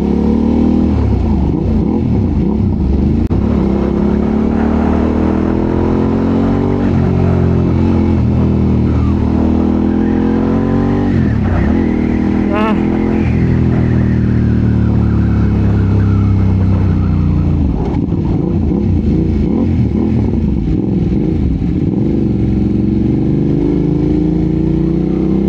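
A 2025 Ducati Panigale V2 engine drones steadily on a ride, its pitch rising and falling with throttle changes, loud and close, with wind rush throughout.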